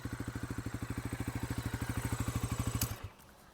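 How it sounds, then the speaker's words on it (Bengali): A Bajaj Pulsar NS400Z motorcycle idles close by, its underbelly exhaust giving a steady, loud chugging pulse that rises slightly before the engine cuts off. "এক্সস্টের সাউন্ডটা আমি আপনাদেরকে ভালো করে শুনিয়ে দিচ্ছি"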